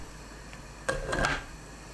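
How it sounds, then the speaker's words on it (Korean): A pot lid clinks shut over potato stew on the stove, a couple of quick metallic taps against the rim, close and fairly soft. "감자 넣고 뚜껑 닫아 센 불로 끓입니다"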